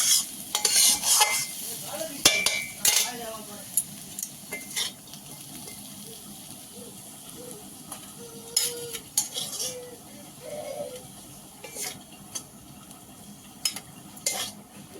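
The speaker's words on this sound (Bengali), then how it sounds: "মা কড়া থেকে নামিয়ে নিচ্ছে বাটিতে" A metal spatula scrapes and clinks against a wok as fried drumstick flowers are scooped into a bowl, with a faint sizzle underneath and irregular bursts of clatter.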